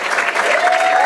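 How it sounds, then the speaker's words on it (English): Dense crowd applause at a comedy show in the Roxbury Hotel, loud and steady clapping throughout the brief moment with no gaps. "Start the clapping."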